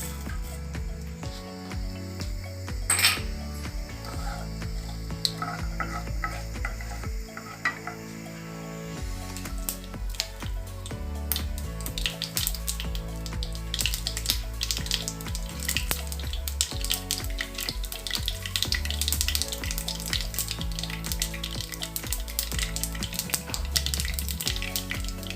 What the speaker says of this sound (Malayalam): നെയ്യ് നല്ലവണ്ണം ചൂടായി അതിലേക്ക് നമുക്ക് കടുക് ഇട്ട് കൊടുക്കാം.